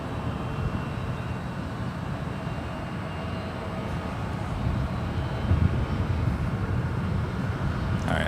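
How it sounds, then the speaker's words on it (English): Delta Air Lines Boeing 757-200 delivered in 1997 at San Francisco International Airport, a steady distant jet engine roar holding for several seconds and swelling slightly, with no talk over it. "Delta Airlines Flight 356 heading to JFK. It's a 757-200 delivered in February 1997."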